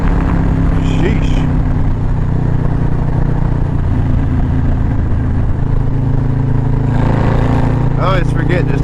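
An engine revs hard on a ride, a loud sustained roar with rising and falling pitch surges near the start and end, close and constant under a voice talking.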